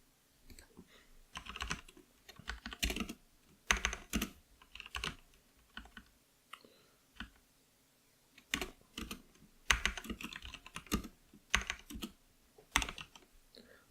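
Typing on a computer keyboard while writing JavaScript code, with quick irregular bursts of key clicks separated by short pauses, close and fairly quiet, and no talking.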